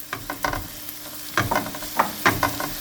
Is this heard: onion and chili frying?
yes